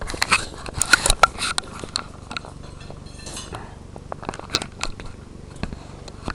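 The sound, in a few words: crunching Berry Crunch corn and oat cereal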